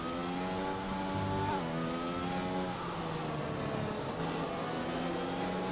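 A racing car in a video game warms its tyres on track, a loud continuous engine drone with rising and falling revs that shift pitch as it accelerates, steady throughout.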